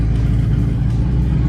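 A loud muscle car engine rumbles heavily and accelerates at part throttle on a city street, a deep, close, continuous roar with no talk.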